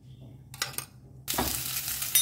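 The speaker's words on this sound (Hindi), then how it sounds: "तो अब इसमें डालते हैं एक बड़ा चम्मच तेल।" A tablespoon of oil goes into a kadhai on a gas flame. Two short clattering bursts come first, then a sudden loud sizzle that holds steady to the end.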